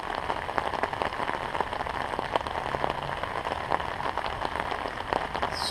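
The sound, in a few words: heavy rain falling outdoors near beehives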